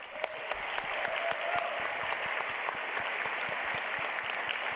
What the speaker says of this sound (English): Can we get another round of applause for everyone?